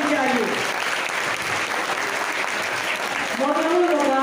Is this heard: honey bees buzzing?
no